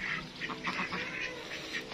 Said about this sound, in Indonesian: Ini kita lihat bebeknya Pak D